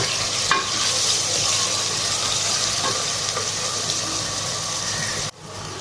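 Onions frying in a pan for achaar gosht, a steady close sizzle that runs almost unbroken, with a few light scrapes of stirring, then a brief dip near the end.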